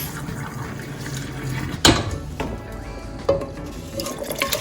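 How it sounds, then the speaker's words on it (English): Water is poured off salted beef in a kitchen while Jamaican stew peas are being made, splashing and running, with a sharp clank of a pot near the middle. "We're throwing off the water from the salted beef."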